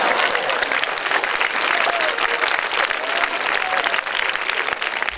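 Audience applause at a comedy show, a loud, sustained roar of many hands clapping that fills the whole stretch, with crowd noise and faint voices mixed underneath.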